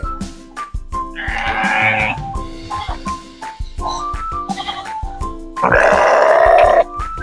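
Goats at a cafe zoo in Sawang Daen Din, Sakon Nakhon, let out several loud, close, drawn-out bleats, two long and strained, with shorter calls and clattering between them.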